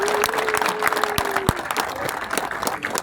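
An audience at a World Wetland Day event in Rwanda applauds the environment minister, steady close applause with a few sharp claps standing out.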